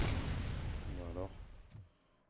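Explosion in the video game RoboCop Rogue City: a loud, close, low rumbling blast with a rolling tail that fades away over about two seconds, followed by a short sharp pop.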